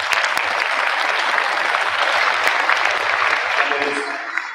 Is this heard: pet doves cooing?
no